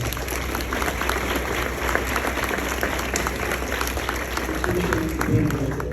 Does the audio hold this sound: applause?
yes